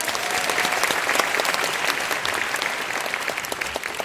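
A seminar audience applauds after a leadership speech, dense continuous clapping from a large crowd at steady loudness, with no voices over it, lasting the whole stretch.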